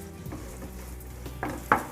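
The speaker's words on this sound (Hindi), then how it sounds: "प्याज को हम हल्का सुनहरा होने तक फ्राई करेंगे," Onions frying in a pan over a low to medium flame for a restaurant-style makhani matar curry, a soft steady sizzle with faint stirring clinks and two sharper utensil scrapes near the end.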